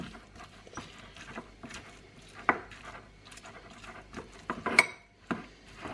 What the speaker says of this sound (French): Je vais tout simplement venir hacher grossièrement le thon